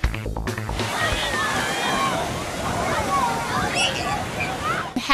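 Surf rolls in at Nauset Beach on Cape Cod, a loud, continuous sloshing wash of waves with people talking in the background.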